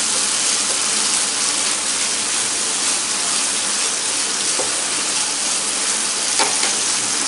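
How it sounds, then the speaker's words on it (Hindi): Spices and leftover bread pieces fry in a hot pan with a loud, steady, close-up sizzle and occasional faint stirring clinks, and no talking. "1 मिनट फ्राई कर लेते हैं इसको।"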